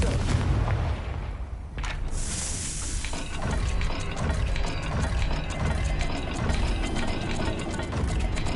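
A fiery Confringo blasting spell from Hogwarts Legacy lands as a loud burst, then rumbling booms and crackling blasts roll on steadily with almost no talking over them.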